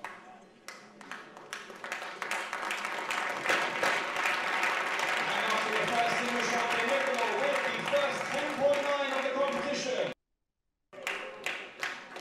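Sustained applause and crowd clapping at a 50 m rifle prone shooting range in Granada, loud and steady for several seconds before cutting off abruptly, then a few scattered claps return, with a commentator talking over it.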